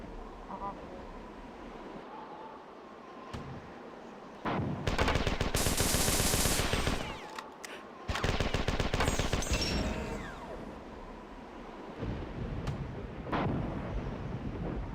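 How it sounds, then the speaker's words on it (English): Gunfire aimed at the player in Marathon 2: Durandal comes as loud, dense rapid bursts in two long volleys, with quieter single shots before and after. "Someone's shooting at me."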